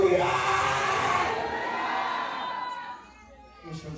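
A church congregation shouts and cheers together in a loud, sustained roar of many voices that fades toward the end, with a few scattered voices lingering.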